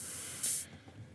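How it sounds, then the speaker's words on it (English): A brief open hi-hat from an SSF Entity modular synth drum module, a bright hiss swelling for a moment over a low steady hum, then fading out. "So you get a kind of long and a short open hi-hat"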